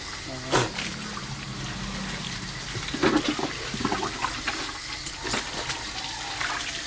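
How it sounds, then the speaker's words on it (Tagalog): Water poured over a bathing person's head to rinse away soap, splashing and trickling in uneven bursts against a constant noisy background with faint voices. "Sa ulo, buhusan mo para mawala yung sabon."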